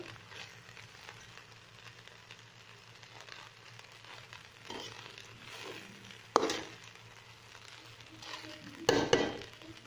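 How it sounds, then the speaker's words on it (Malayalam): Cooked rice for mutton biryani is stirred through with mutton masala, giving soft, close scraping and shuffling in the pot plus two sharp, louder clanks of a utensil against the vessel, with no talking. "എല്ലാ ഒന്ന് ഇളക്കി കൊടുക്കാം"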